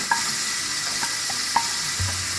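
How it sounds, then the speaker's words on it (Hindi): Tomatoes and carrots tumble into a pan of cooked chicken, giving a steady close sizzle with a few soft clinks and stirring knocks scattered through it. "अब हम इसमें टमाटर डालेंगे। इसी के साथ ये कैरेट्स डालेंगे इसमें"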